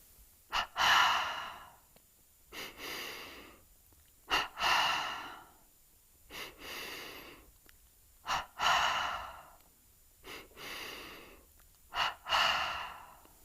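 Rhythmic yoga energization breathing: sharp double inhalations and exhalations through the nose repeat in about six cycles, each a quick snort followed by a longer breath, close and clear with silence between.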